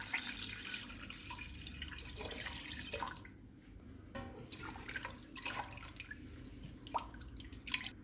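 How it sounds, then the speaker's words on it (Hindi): Water poured into a pressure cooker holding beef with ginger-garlic paste, garam masala and salt, a steady close splashing stream that thins into scattered drips and small trickles. "मैं इसमें 3 कप पानी डाल रही हूँ ताकि बीफ अच्छे से गल जाए"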